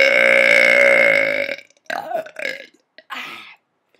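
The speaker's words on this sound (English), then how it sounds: "I have like different techniques of burping" A loud, long burp rolls out alone for about a second and a half, followed by a few short, broken gulps and breathy belches.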